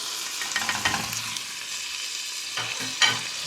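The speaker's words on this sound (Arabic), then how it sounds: "من بعد ما تشحرت ليا البصله غنضيف ليها الشامبينيون" Black and white button mushrooms go into fried onions in a hot pan and sizzle steadily up close. A few stirring scrapes and brief bursts of louder frying rise over the hiss.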